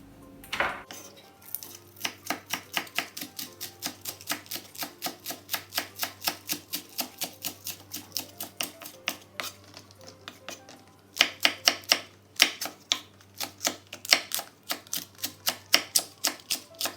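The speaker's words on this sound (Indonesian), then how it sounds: "Pelengkapnya 4 buah cabai hijau dan 1 batang daun bawang diiris-iris." A knife slices green chilies and scallion on a cutting board in quick, crisp taps. The taps come close and evenly paced, with a brief pause partway through, and no voices are heard.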